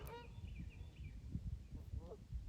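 A goose honking on a golf course, a few nasal calls near the start and again around two seconds, over wind and low rumble with faint voices in the background.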